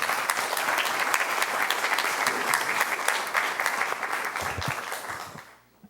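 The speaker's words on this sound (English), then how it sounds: "Thanks again for the applause" Sustained applause from an audience at a community services district special board meeting, dense clapping holding steady for several seconds before fading out at the end.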